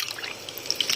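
Strawberries and their juice tipped into a pan on the stove, giving a short, close run of wet drips and splashes of liquid hitting the pan, with no talk.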